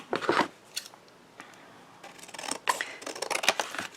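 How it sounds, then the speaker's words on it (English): Scissors snip the excess from an adhesive sheet used for card making, with sharp, close cuts in short bursts separated by pauses, a quick cluster at the start and a faster run near the end. "I'm just cutting off the excess of the sticky."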